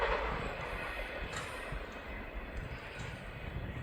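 A train rolls along the railroad as a steady, broad rumble that stays loud and constant throughout, with no talking over it.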